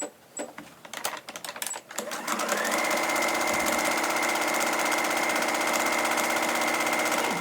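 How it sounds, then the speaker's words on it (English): A sewing machine stitches a fabric strap, starting with a few uneven clicks and taps before settling into a loud, steady, close-up mechanical whir that runs unbroken to the end. "So I'm just going to sew that now"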